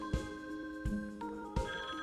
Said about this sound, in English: Oh, that's the phone. I'll get it.